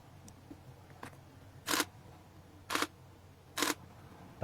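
A Nikon camera with a faulty start fires its shutter and mirror box three times, each a short sharp mechanical clack, with faint clicks and light handling noise between, close up in a quiet room.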